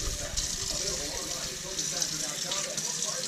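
Very hot tap water, with a little bleach and dish detergent, runs over a Rainbow E2 vacuum motor part being rinsed, a steady close gush and splash that continues throughout.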